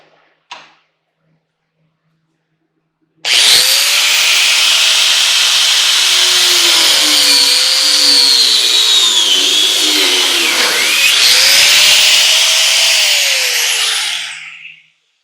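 A power saw cuts through the crowns and shaft of a VHS player part, a loud continuous high buzzing grind lasting about eleven seconds with slight pitch wavers, preceded by a brief tap and silence.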